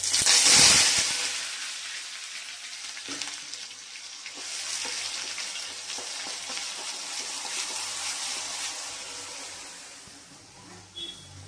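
Ground onion paste dropped into hot mustard oil with cumin seeds and a dried chilli, giving a broad steady frying hiss that bursts loudly at first, then settles into a sustained sizzle with faint clinks, no talking.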